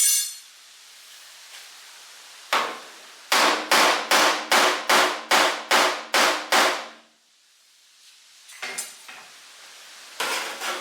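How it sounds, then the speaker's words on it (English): Hammer tapping out a dent along the edge of a new car door skin: a single knock, then a quick run of eight evenly spaced, ringing metallic taps, followed by a few softer scattered hits, close up with no talking. "I'll give it another little tap now."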